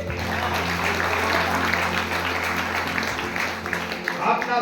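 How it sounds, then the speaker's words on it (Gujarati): A church congregation at a Sunday evening service claps together in a steady, dense burst of applause that fills the room and holds at an even loudness throughout. "તાળીઓ પાડીએ."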